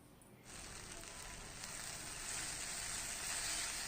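Sautéed capsicum tipped into a hot pan of sizzling capsicum chutney, a soft start then a loud, continuous close hiss that builds and holds, no talking.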